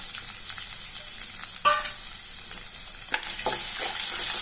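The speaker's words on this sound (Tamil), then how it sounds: "வெங்காயம் ஒரு கண்ணாடி பதம் வர அளவுக்கு வறுத்து விட்டுக்கலாம்" Steady hiss and sizzle of onions frying in a hot pan, with a few scraping stirs from a spoon partway through.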